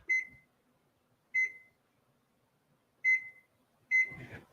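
An oven timer beeps four times, each a short, clear electronic tone with pauses of one to two seconds between them; a faint rustle of kitchen movement accompanies the final beep.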